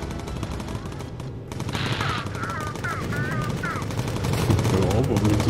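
Machine guns rattle in rapid bursts aboard a bomber in the video game Bomber Crew, with several quick chirping sound effects and a voice talking over the fire throughout.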